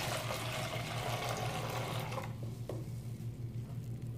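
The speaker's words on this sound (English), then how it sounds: "We'll fill up the basin with water." Tap water running into a basin, a steady rushing pour with a low hum underneath that cuts off partway through, leaving quieter clinks and drips.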